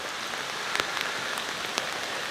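Water running off driveways and spilling through a curb cut into the roadway on Old Lynchburg Road, a steady broadband patter and trickle close by, with a few sharper splashes and no voices.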